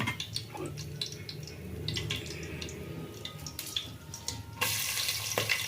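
Onion hits hot oil while cooking menthya bath, a spiced fenugreek rice, giving a soft, steady sizzle with scattered crackles and a brief louder burst of frying near the end.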